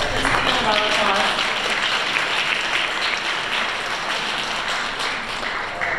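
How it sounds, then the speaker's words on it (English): A conference audience claps to welcome a US congressman for California's 34th District to the stage: dense, steady applause from a crowd that fills the room and eases off slightly toward the end. "Let's give him a round of applause."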